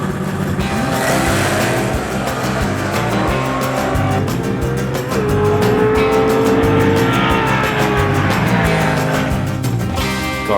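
Street race car launching in a drag race, a loud roaring engine that revs and climbs through the pull with rattling exhaust pops and a brief tire squeal, close and continuous with no voices.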